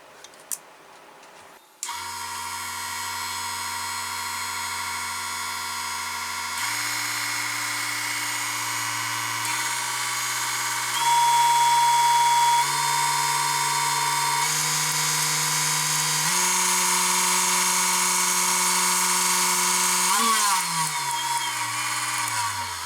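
A small 150W mini wood lathe motor whirs steadily for a long stretch, its pitch stepping up in stages as the voltage is raised and then winding down at the end.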